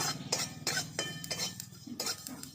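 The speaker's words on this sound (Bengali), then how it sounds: "দেখুন একটু ফটফট করে ফাটতে শুরু করে দিয়েছে।" Pumpkin seeds and flaxseeds dry roasting in a hot pan, with quick crackling pops and clinks of seeds bursting and hitting the metal, repeated in short irregular bursts, close and fairly loud.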